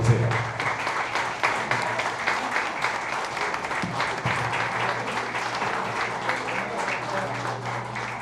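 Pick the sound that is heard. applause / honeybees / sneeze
applause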